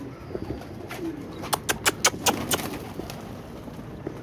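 Flight pigeons being fed grain make a sparse, close sound with a short run of sharp, clustered bursts midway through over a quiet outdoor background. Distant soft cooing is possible.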